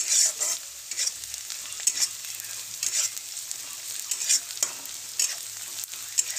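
Onions fry in oil in a pan until brown, a close, bright sizzle broken by repeated scraping stirs of a spoon at an irregular rhythm, with no talking.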